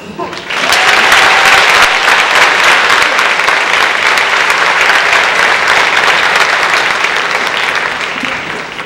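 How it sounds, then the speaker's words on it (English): A crowd claps at a high school events awards ceremony, loud, close and sustained, the dense applause running without a break for nearly nine seconds. "And it's time to clap again."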